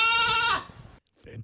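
A goat's bleat used as a sound effect, one loud wavering cry lasting about half a second that trails off, then a short quiet gap before a brief burst of talk.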